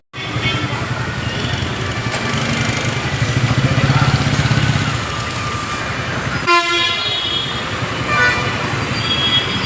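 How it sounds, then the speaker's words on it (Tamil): At Salem railway station, a rumbling train passes under station noise and talk, then a loud train horn cuts in for a few seconds near the end. "சேலம் ரயில் நிலையம் வந்து இறங்கியாச்சுங்க"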